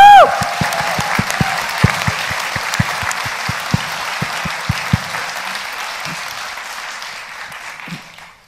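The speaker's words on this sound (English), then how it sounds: "could you please give them all the round of applause for such a great effort" A live audience claps and cheers at an event celebrating people with disabilities, loud and sustained with sharp individual claps for about five seconds before tapering into a fading patter.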